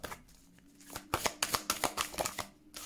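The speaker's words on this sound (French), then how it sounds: "On va tirer une carte." Oracle cards being shuffled by hand, a quiet riffle at first, then a run of crisp, close flutters and slaps as the deck is worked and a card is drawn.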